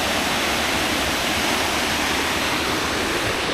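The 75-foot Dry Falls waterfall roars as a steady, loud, dense wash of falling water that stays constant throughout, with no voices.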